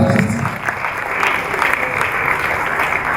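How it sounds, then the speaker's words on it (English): An audience at UNILAG's 2024 International Week gives a round of applause for conference panelists. Steady, dense clapping fills the hall throughout, with a voice briefly audible at the start. "Another beautiful round of applause for our panelists."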